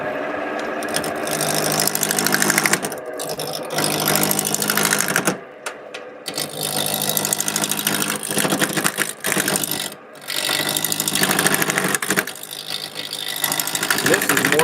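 A wood lathe turning a carving mallet keeps a continuous, fairly loud whirring drone, with brief dips and tool scraping against the spinning workpiece; a voice talks faintly over it.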